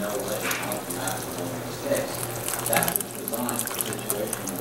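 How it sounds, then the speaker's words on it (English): Hot water pours steadily into a pot of black-eyed peas, a continuous close wash of splashing and trickling that runs throughout, with faint background noise and a voice briefly present. "You want to add hot water to this."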